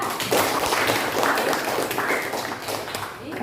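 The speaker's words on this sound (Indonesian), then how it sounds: "tepuk tangan untuk Aulia" A classroom of students claps for their classmate Aulia with a dense, close burst of hand claps that holds steady, with faint chatter mixed in.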